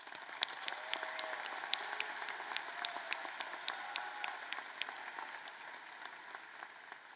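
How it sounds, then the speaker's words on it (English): Steady applause from a large commencement audience, many hands clapping continuously at a moderate distance, with a few sharper claps standing out. "A round of applause for these outstanding seniors."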